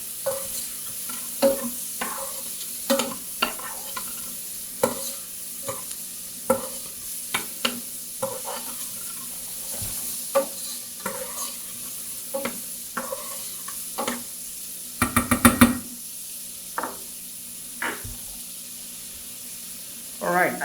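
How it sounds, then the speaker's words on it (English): Onions sauté in a pot for clam chowder, with a soft, low sizzle under repeated spoon scrapes and knocks against the pot, plus a brief burst of clattering stirring near the middle. "at this point my onions are turning translucent"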